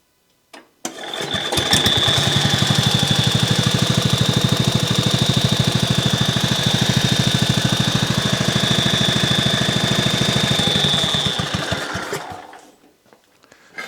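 A small engine revs steadily for about eleven seconds during a clutch engagement speed test, loud and close, with a whining tone over a rapid chattering pulse, starting abruptly and cutting off near the end.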